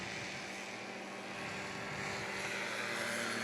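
A STOL competition airplane's propeller engine at full throttle gives a steady, droning roar that builds slightly over a few seconds, heard from some distance with no talking.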